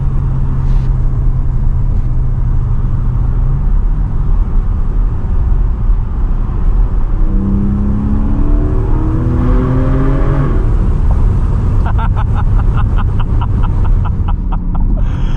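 A 2024 Porsche Cayman GTS 4.0 driven on the road, its engine droning steadily inside the cabin, then rising and falling in pitch through gear changes as it accelerates, with a whirring mechanical edge and no talk.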